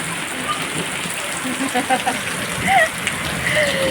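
Heavy monsoon rain pours down steadily in a dense, even hiss, close and loud, while a person talks over it.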